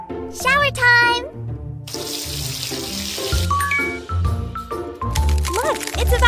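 Shower water runs in a kitten care video game, a bright hissing spray set among chirpy cartoon sound effects and a childlike character voice.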